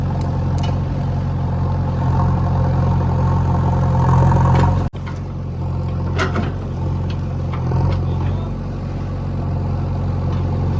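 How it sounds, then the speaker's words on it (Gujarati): A tractor engine runs steadily on a farm during maize sowing work, a loud, constant low rumble and hum that briefly cuts out with a sharp drop, then resumes at the same level. "બીજું ટ્રેક્ટર સામે આવી ગયું"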